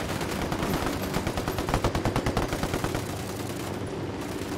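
Gunfire in Ghost Recon Wildlands, a rapid run of loud, close shots in a steady rhythm over constant background noise, then tailing off.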